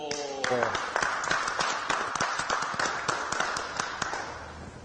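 An audience applauding a special commentator at an afternoon show, a run of sharp, fairly close hand claps in an uneven rhythm, starting just after a voice and continuing for several seconds.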